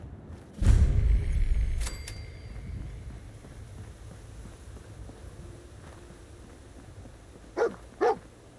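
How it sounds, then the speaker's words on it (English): Dogmeat, the dog companion in the video game Fallout 4, gives a loud bark near the start, then two short yips near the end over a low hum. "I knew dog meat would sniff our man out."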